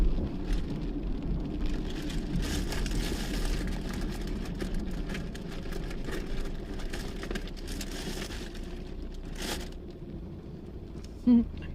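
Rain falls steadily outdoors as a soft, even hiss across the whole stretch, with passing crowd murmur and a few faint knocks beneath it.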